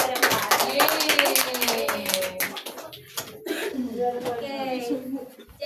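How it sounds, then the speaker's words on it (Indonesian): Classroom applause for four students returning to their seats, a scattered burst of hand clapping with some throat clearing and voices, fairly close and moderately loud, fading into talk. "Beri tepuk tangan untuk mereka berempat."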